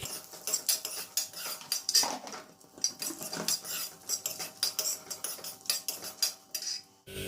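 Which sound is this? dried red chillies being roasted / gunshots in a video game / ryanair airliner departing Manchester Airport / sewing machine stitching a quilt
dried red chillies being roasted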